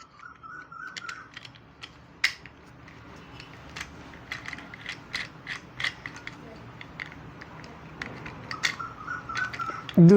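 Clicking, ratcheting creaks from a Kadence microphone suspension boom scissor arm being rotated, a run of irregular small mechanical ticks and snaps, close but fairly quiet, with faint birdsong in the background.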